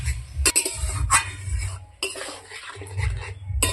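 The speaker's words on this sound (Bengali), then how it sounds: "আমগুলাকে ভালো করে মশলায় কষিয়ে নেব।" A utensil scrapes and clinks in a pan as mangoes are stirred and fried with spices, several rhythmic strokes with metallic taps, close and clear.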